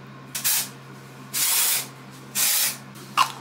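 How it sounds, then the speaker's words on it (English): Batiste dry shampoo sprayed onto hair in three close, loud hissing bursts, each about a half second to a second long, with a brief clack at the end. "So Batiste dry shampoo."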